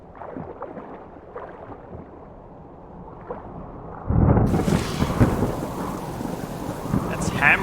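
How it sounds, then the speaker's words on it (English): Heavy rain in the survival game Subsistence: a low, distant rumble and faint patter give way midway to a sudden, loud, dense hiss of pouring rain that keeps hammering steadily to the end. "That's hammering down. Well, it should stop raining"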